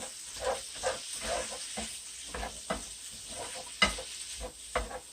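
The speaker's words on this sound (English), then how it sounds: "we're going to stir those around in there" Garlic sizzles in a pan on the stove while being stirred, soft hissing frying punctuated by irregular scraping strokes and a few sharper clacks of the utensil, close and fairly quiet, with no talk.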